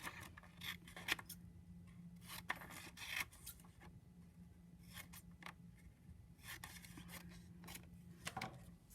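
Tool trimming the edge of a soft clay tile, short quiet scraping and cutting strokes in irregular bursts, close and faint against a low background hum.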